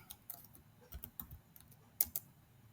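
Soft, irregular key clicks of someone typing a search on a computer keyboard, quiet and close, with a few sharper taps near the end.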